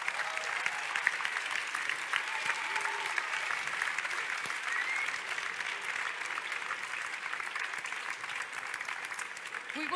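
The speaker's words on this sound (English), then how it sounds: "Let's give them a round of applause as well." An audience at a grand final talent competition claps throughout, a sustained crackling round of applause with scattered sharper claps and a faint murmur of voices underneath, holding steady for ten seconds.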